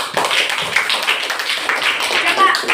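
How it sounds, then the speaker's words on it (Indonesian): A classroom of students claps briefly, the claps and taps mixing with overlapping voices and chatter. "tepuk tangan"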